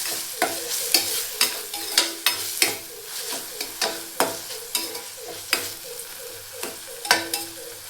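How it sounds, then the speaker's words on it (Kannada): Ridge gourd palya with tomato is stirred in a frying pan, a spoon scraping in a steady rhythm of about a dozen strokes over a soft sizzle, with no talk. "ಈಗ ಇದನ್ನು ಮಿಕ್ಸ್ ಮಾಡ್ಕೊಳ್ಳೋಣ್ರಿ."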